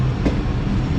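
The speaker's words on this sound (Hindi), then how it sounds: "तो दोस्तों ये ट्रेन हमारे इस तक पहुंच रही है घोटकी रेलवे स्टेशन पर" A train pulls into Ghotki railway station at night, a steady low rumble of wheels and cars, loud and continuous throughout.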